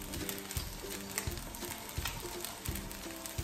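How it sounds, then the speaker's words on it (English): Egg fried rice stirred in a hot pan crackles with a steady sizzle, with rhythmic scraping and knocking of a spatula against the pan and no voices. "And then stir it."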